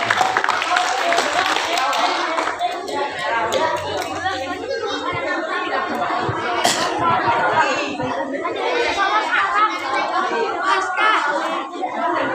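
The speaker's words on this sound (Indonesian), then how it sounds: "tepuk tangan" Children clap their hands at an elementary school Maulid celebration, a dense, steady patter of many small hands mixed with lively chatter throughout.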